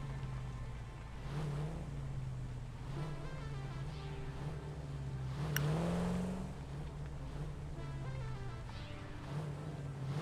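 Car in the video game Satisfactory, an engine hum with a few revving swells and a brief whine near the middle, moderately quiet and steady, with no talk.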